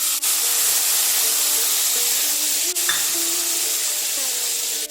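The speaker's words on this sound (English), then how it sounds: "As it's sizzling in" Tomato paste sizzles loudly and steadily in a hot frying pan, a constant close hiss with a faint clink partway through.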